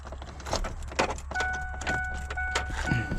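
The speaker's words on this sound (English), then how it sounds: "I gotta get the keys in there first" Keys jangle and scrape into the ignition of a 1997-2004 Ford F-250 pickup, a series of close metallic clinks and rattles over a low steady hum, with a faint chime tone partway through.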